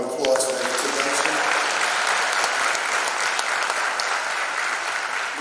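Steady audience applause fills the air at a 2021 school commencement ceremony, a dense, continuous wash of clapping that holds at an even, moderately loud level for several seconds, with faint voices mixed in beneath it.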